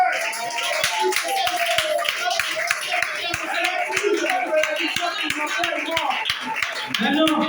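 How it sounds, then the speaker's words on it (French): An audience at a religious gathering applauds steadily and continuously, with dense clapping sustained throughout under a busy, reverberant room. "acclamez pour cette bénédiction."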